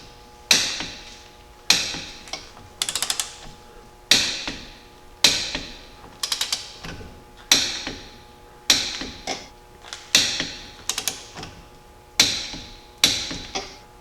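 A hand ratchet torques U-bolts on a Jeep Cherokee XJ suspension, producing a steady series of sharp metallic clacks, each followed by short bursts of ratcheting clicks, close and clear with no talk.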